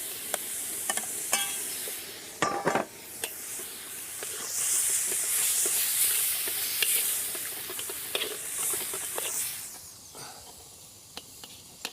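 Minced lamb with chilies and garlic-ginger paste fries in a pan on a very hot gas stove, a steady sizzle and hiss broken by sharp scrapes and stirring clatters of a utensil.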